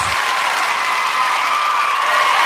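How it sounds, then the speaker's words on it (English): A podcast audience bursts into applause, a loud, dense, continuous wash of clapping held close and steady for a few seconds. "Everybody give yourselves a round of applause"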